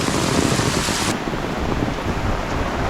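Steady, continuous rain pours down on a forest path in the Konkan countryside in a dense, even hiss with no letup and no voices.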